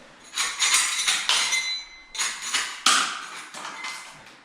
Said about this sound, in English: So we'll try the little scraper first